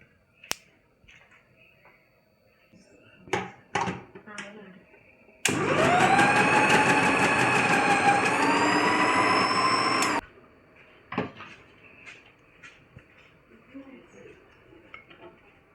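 A Vidiem Tusker food processor runs loud and steady for about five seconds while thick-slicing, a continuous motor whine with rising pitch as the load eases, framed by scattered clicks and knocks of handling before and after.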